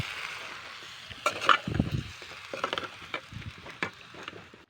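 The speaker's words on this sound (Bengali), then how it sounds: "তো এবার আমি এগুলোকে আগে ভালো করে কিন্তু কষিয়ে নেব।" Chicken necks and liver cooking with onion paste, tomato paste, salt, sugar and turmeric, a soft sizzle under scraping and clacking of a spatula stirring the thick mixture in the pan, moderately faint and irregular.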